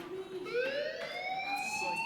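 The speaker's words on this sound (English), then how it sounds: "Hey, do you hear that fire alarm?" A fire alarm siren wailing in the video game Life is Strange, a steady rising electronic tone with layered harmonics that holds loud and continuous for the whole stretch, with no voices over it.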